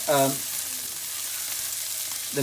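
Onions, garlic and ginger frying in a curry pot, a soft steady sizzle between brief bursts of a voice at the start and end.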